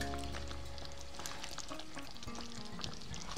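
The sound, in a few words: stirring chicken curry in a pot after lifting the lid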